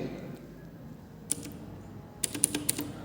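Address keys pressed on the keypad of an 8085 microprocessor trainer kit: a single click, then a quick cluster of four or five sharp taps close by over a low steady room hum.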